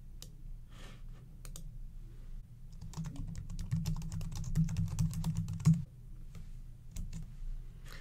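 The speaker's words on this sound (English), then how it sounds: "I'm just going to go over here and type in here." Typing on a computer keyboard, soft rapid key clicks close by, sparse at first then a denser burst in the middle before trailing off, with no voices.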